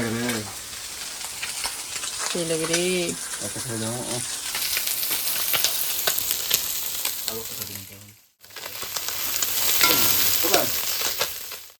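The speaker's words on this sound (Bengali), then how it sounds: "এখানে মাছের ভাজাটা করে নিচ্ছি" Small fish seasoned only with salt and turmeric frying in a pan crackle and sizzle steadily up close, with brief voice-like sounds in the background and a short pause near the end.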